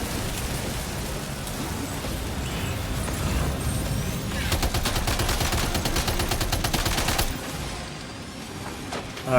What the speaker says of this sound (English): I'm gonna keep shooting you